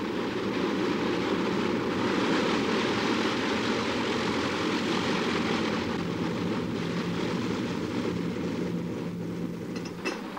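A propeller airplane engine drones loud and steady for the whole stretch, a continuous close-up roar with a constant low tone and no breaks.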